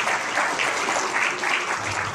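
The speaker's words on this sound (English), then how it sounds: "give them a round of applause" Conference audience applauding, a steady dense patter of many clapping hands at moderate volume filling the whole stretch, with no talk over it.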